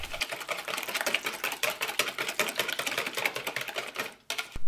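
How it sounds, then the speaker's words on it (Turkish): Yogurt and a whole egg with salt and black pepper are beaten with a wire whisk in a bowl, giving a fast, steady run of light clicking strokes that stop briefly near the end. "Tatlandırmak için tuz ve karabiberi ilave ettikten sonra çırpma teliyle güzelce çırpıyoruz."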